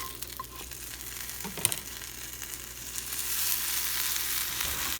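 A chicken pesto sandwich on a round bun toasts in a pan after flipping, giving a steady close sizzle with a couple of scraping clicks early on, and the frying hiss swells louder toward the end.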